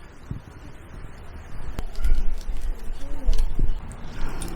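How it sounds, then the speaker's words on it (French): Birds and crows call in a peaceful Tokyo park during cherry blossom season, a few short caws and chirps rising over a steady wash of flowing water, moderately close. "Il n'y a que le bruit des oiseaux et des corbeaux."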